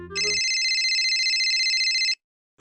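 A phone rings in a high, steady electronic tone that lasts about two seconds and then cuts off, loud and close. A short low rumble comes just before it.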